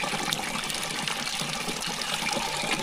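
Water running steadily from a farm sprayer used for herbicide on a potato field, a continuous close hiss and trickle with no talk.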